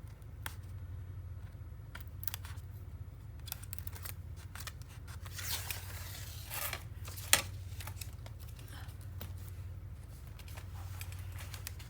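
Tape strips pulled off one at a time while assembling a paper craft mini album, a series of small quiet crackling rips and ticks spread irregularly over a low steady room hum, with one sharper click partway through.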